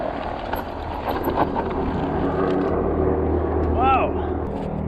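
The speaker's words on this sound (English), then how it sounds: "Helicopter flying over." Helicopter flying over a mountain peak near old mine waste rock dumps, a distant low engine rumble behind wind and outdoor noise, with people talking over it.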